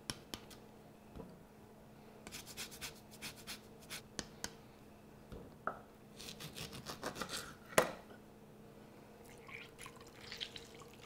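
Orange peel being zested on a grater into almonds, giving quiet, rapid scraping strokes in short bursts with soft rasping pauses between them and no voices.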